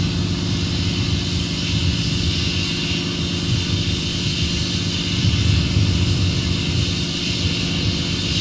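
Airliner taking off from runway 30 right at Minneapolis–St. Paul airport in winter, a steady loud roar of jet engines that holds broadband and unbroken throughout, heard from a distance with no talk.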